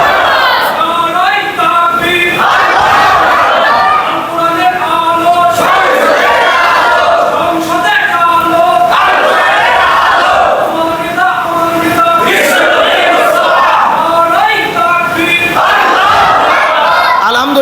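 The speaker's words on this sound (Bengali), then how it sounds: "মাঝখান থেকে একজন ভালো করে তাকবীর দাম তো দেখি" A large crowd chants the takbir loudly in unison, with repeated call-and-response shouts rising and falling in a steady rhythm over nearly eighteen seconds, many voices together and close.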